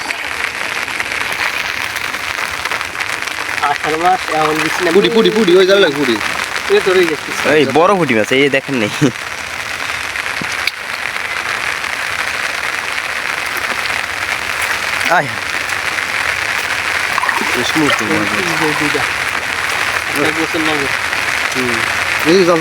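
Heavy rain pours down beside a paddy field in a dense, steady, loud roar that lasts throughout, while someone talks over it at intervals.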